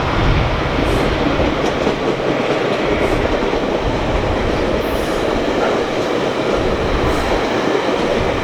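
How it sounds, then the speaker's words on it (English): A GO passenger train rolls past on the main line track as a steady, loud rumble with rail clatter, close and continuous, no voices. "As this GO train clears the northernmost main line, the one to our left"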